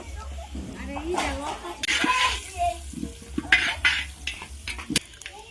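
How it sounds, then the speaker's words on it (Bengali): Stirring and scraping in a pan while about 250 grams of cumin fries in oil, with clinks of utensils and a soft sizzle, over a steady low hum. "আড়াইশো গ্রাম জিরা তেলের উপর ভেজে নিচ্ছি"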